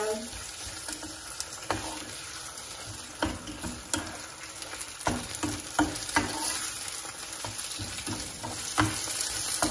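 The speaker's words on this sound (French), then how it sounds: "je vais essayer de laisser mijoter encore 1 ou 2 minutes" Food simmering in a pan before bolognese sauce is added, a steady close sizzle with bubbling pops and occasional ticks of a utensil against the pan.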